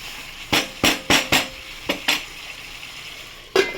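Chicken sautéing in a pan as it is stirred, a series of loud scraping strokes over a soft sizzle, with a pause before a final stir; no voices.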